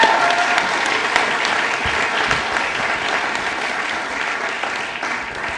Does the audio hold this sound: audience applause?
yes